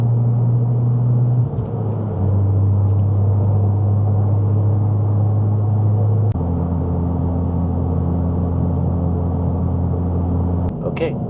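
A 2024 Acura Integra Type S cruising on the highway, its engine a steady low interior drone with a gear or speed change midway, road rumble underneath and people talking inside the cabin.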